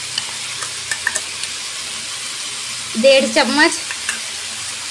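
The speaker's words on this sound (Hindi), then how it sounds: "इसे भी 2 मिनट के लिए भून लेंगे चिकन के साथ में" Ginger garlic paste and chicken sizzle in a hot pan with a steady frying hiss and occasional stirring clinks, while a voice speaks briefly in the middle.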